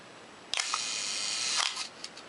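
An SLR camera's shutter fires at a one-second setting: a sharp clack as the mirror and shutter open, a held second of faint hiss, then a second clack closing it, followed by small mechanical ticks.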